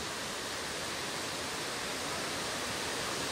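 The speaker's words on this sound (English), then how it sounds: "There are like 1, 2, and then 3 pools, 3 layered waterfall." Three-tiered waterfall in Meghalaya, its water dropping through three stacked pools, makes a steady, dense broadband roar with no pauses, constant in level and alone with no voices.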